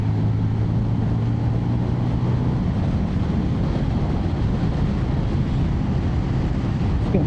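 A 27-year-old Yamaha XJ600 motorcycle cruises along a country road, its engine a steady low drone buried under constant roaring wind buffeting the microphone, with no speech.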